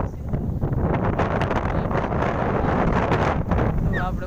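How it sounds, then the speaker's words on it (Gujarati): Strong wind blows across an open farm field on a sunny day, a steady broadband rush and buffeting against the microphone that lasts throughout, loud and close, with no talk. "અને પવન પણ બહુ જ છે અત્યારે તો"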